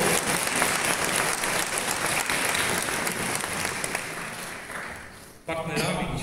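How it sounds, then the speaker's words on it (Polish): A concert audience at a Christmas and New Year concert in Rumia applauds the event's sponsors, with loud, dense and sustained clapping that tapers off near the end before a brief burst of voices and noise returns. "wielkie brawa dla naszych sponsorów"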